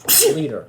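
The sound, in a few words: sneeze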